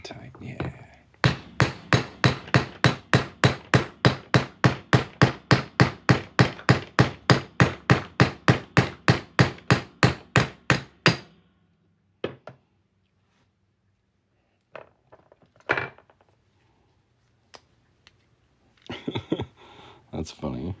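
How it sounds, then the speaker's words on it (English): A hammer strikes a silver coin ring onto a steel mandrel in a rapid, steady series of about forty sharp metallic blows. A few scattered taps and light handling noises follow after the hammering stops. "Let's hammer it on through."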